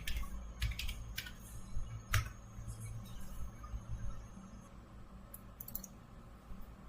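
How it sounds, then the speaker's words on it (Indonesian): Light, scattered keystrokes tap on a computer keyboard in short bursts, with occasional clicks over a low background hum. "Kemudian saya akan mengetik ini."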